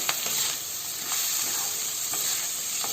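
Potatoes frying in a pan with salt and turmeric, a steady close sizzle with occasional stirring scrapes and soft clicks, no talking.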